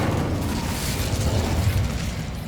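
The Incendio fire spell in Hogwarts Legacy gives a sustained, roaring burst of flame, loud and steady from start to finish, with a deep rumbling body and a hissing crackle on top.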